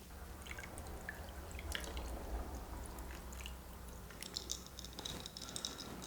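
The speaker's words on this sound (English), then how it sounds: "we're going to want to top with club soda." Club soda poured over a Gin Rickey cocktail gives a steady fizzing patter with drips and a few small clinks of liquid hitting the glass, fairly close and quiet, with no talking.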